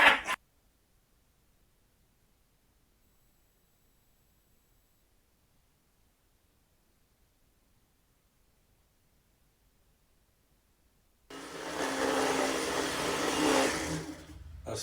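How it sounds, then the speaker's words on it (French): A Dyson vacuum cleaner switches on after a long silence and runs with a loud, steady broadband roar for the final few seconds, heard on its own without any talk. "Aspirateur Dyson, les gars."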